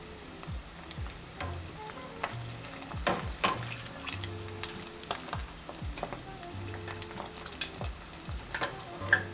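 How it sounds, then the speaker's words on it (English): Falafel fry in hot oil six at a time, giving a steady crackling sizzle throughout with scattered sharper pops and a few soft knocks of a utensil against the pan. "I'll fry them 6 at a time, 2 minutes on each side."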